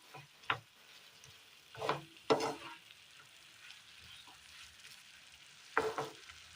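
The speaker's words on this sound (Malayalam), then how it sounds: "ഇനി ഇതിലേക്ക് നമുക്ക് അരച്ചു കൊണ്ടുവന്ന തേങ്ങ കൂടി ചേർത്ത് കൊടുക്കാം. ഇനി ഇത് നന്നായി ഒന്ന് ഇളക്കി കൊടുക്കാം." A coconut curry with ground coconut is stirred in a pan, giving a few soft scraping strokes over a faint sizzle, spaced apart and near, with no talking.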